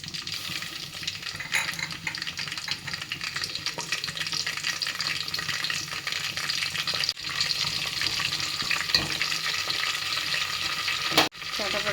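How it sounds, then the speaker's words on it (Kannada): Cumin, mustard seeds, curry leaves and garlic sizzle in hot oil for a tempering, a loud continuous frying hiss with occasional stirring noises and a sharp clatter near the end. "ಒಗ್ಗರಣೆಗೆ ಜೀರಿಗೆ ಸೋಸೆಕಾಳು ಕರಿಬೇವು ಬೆಳ್ಳುಳ್ಳಿ ಹಾಕೊಂಬಿಡ್ತಾನೆ"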